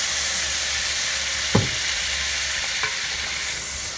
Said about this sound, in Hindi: ये देखिए, बस हल्का सा फ्राई करना है आपने